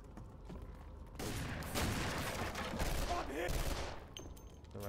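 Rapid automatic gunfire in the shooter game F.E.A.R. rattles in sustained bursts over roughly three seconds, loud and dense, starting after a quieter opening and tapering off near the end.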